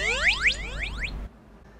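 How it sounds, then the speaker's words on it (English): Startup chirps from the arcade game Burger Time: a fast series of about five rising electronic tones that sweep upward in pitch and overlap, bright and clean, stopping abruptly after about a second. "Going back to our earlier image of the Burger Time startup chirps"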